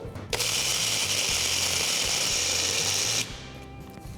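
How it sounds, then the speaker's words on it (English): A kitchen grinder whirs steadily for about three seconds while grinding dates and figs together, a loud high-pitched motor hum that starts abruptly and cuts off, leaving faint room noise. "I'm going to grind some dates and figs together first."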